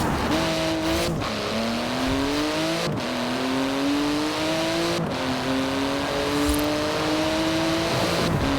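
Porsche 911 GT2 RS in Forza Horizon 4 with magnesium wheels and a titanium exhaust, its engine revving hard and climbing through gears in repeated rising sweeps, with sharp drops at each shift, loud and continuous.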